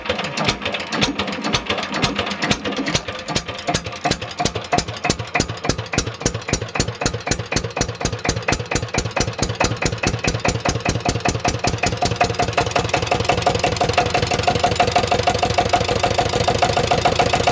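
An engine cranks with rapid, regular pulses and catches, then settles into a steady, loud idle whose rhythmic chugging continues alone and grows slightly fuller toward the end; no voices are heard.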